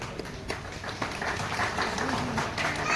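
Crowd applause at an outdoor Ganesh immersion procession in Ethiopia, a steady wash of many hands clapping at moderate loudness, with a faint voice drifting through.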